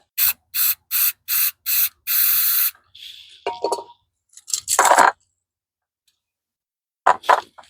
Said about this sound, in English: Let me get the carb spray and give that a spray out.